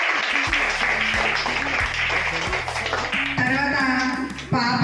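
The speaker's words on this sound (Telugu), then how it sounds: "క్లాప్స్ కొట్టండి పిల్లలు." Schoolchildren at a parent-teacher meeting clap together in a dense, steady burst of applause, with a rhythmic musical backing underneath and a brief pause near the end.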